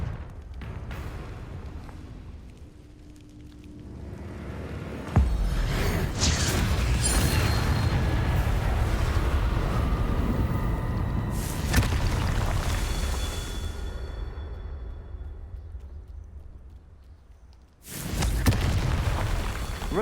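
Fire spell explosions from the video game Hogwarts Legacy, loud booming blasts with long rumbling tails, one hitting around five seconds and more bursts following, with a sharp new blast near the end.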